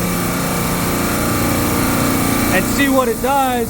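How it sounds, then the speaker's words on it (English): Supermarket refrigeration rack compressor running with a loud, steady mechanical hum and tonal drone, close by, while someone talks over it briefly near the end. "So I'm gonna let this compressor run for a minute"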